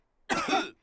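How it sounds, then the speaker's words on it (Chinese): A cartoon character in a children's animated show coughs once in a short, raspy burst with a throaty edge, loud and close, heard alone with no talking. "都被佩德罗的咳嗽传染了"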